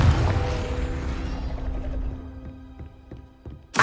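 A Confringo spell blast in Hogwarts Legacy, a loud booming burst that rings out and decays over a few seconds, followed by faint mechanical ticks and a sharp new burst at the end.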